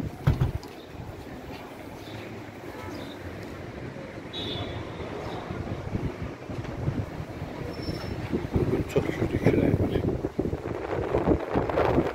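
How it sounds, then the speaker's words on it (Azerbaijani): Strong wind gusts across an apartment balcony, a loud, rough roar that swells and eases for several seconds, with no speech. "Günlərim çox güclü külək var"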